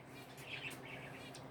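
Pet birds at home chirp and tweet in short, faint bursts over a quiet room.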